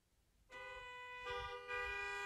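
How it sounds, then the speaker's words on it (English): Car horns honk together in a drive-in church service honoring veterans, a sustained chorus of tones starting abruptly after a quiet moment and swelling in two steps, loud and steady with no talk. "please honk your horns or raise your hands."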